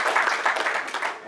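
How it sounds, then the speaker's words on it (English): Audience applause at the launch event of a mental health NGO, a dense, steady wash of many hands clapping together for just over a second, moderately loud and close, with no talk over it. "Round of applause once more."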